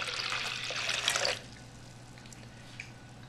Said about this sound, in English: we are going to pour it in our container